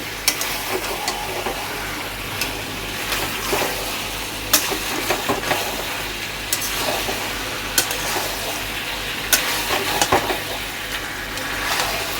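Chicken cooks in an open, uncovered pan, giving a steady low sizzle with close, scattered scrapes and taps of a spoon against the pan throughout, with no talk.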